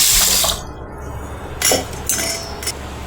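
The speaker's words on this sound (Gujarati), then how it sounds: "આ રીતે તેમાં પાણી નાખી" Water is poured into a pot of horse gram to wash it, giving a splashing gush at the start. Several shorter pours and splashes follow, with light clinks of the vessel.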